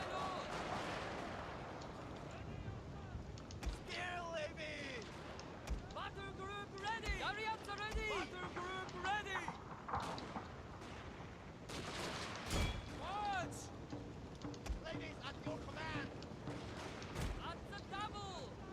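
Troops fire guns in Fall of the Samurai, heard as repeated distant volleys and booming shots over a continuous battle din, with spoken voices running through much of the scene.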